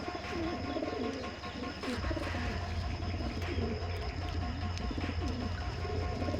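Pigeons of mixed breeds kept for sale at a home loft coo and murmur in a steady, layered chorus, with a low hum running underneath throughout.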